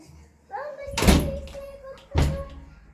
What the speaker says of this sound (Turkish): Kapıyı kapat hadi gel.